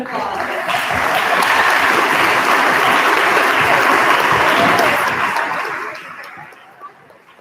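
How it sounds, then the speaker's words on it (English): Audience giving a round of applause at a school awards night honoring NHS members, loud sustained clapping from a crowd that swells, holds steady, then fades away after about six seconds. "Let's give them a round of applause."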